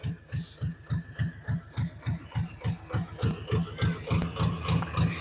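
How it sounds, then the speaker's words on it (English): An old Harley-Davidson tractor engine runs with a steady, rapid loping chug, evenly spaced low thumps repeating close by without talk. "Let me go get my old Harley Davis tractor."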